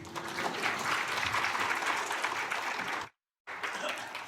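A church congregation at a gospel meeting claps together in a full, sustained round of applause, cut by a brief dropout of silence before resuming.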